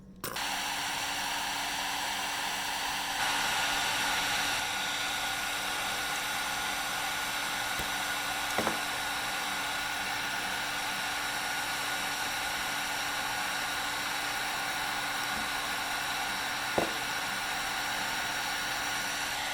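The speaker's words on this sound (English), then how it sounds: "This is a Harbor Freight heat gun right there." A Harbor Freight heat gun blows hot air in a continuous, steady roar at moderate level, with a couple of faint clicks, in a woodworking shop. No one speaks over it.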